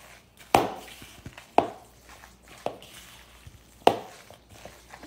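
Tuna salad being mixed in a bowl, four sharp utensil strikes against the bowl at uneven intervals, each followed by brief soft squishing, close and alone.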